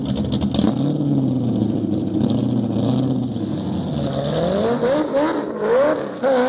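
Car engine revving hard and accelerating, rising and falling in pitch through several climbs, loud and near with a rasping exhaust note.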